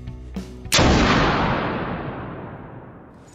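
A single heavy gunshot in the war game Spec Ops The Line, preceded by a faint click, fires close and loud, then a long rolling echo slowly fades away over the following seconds.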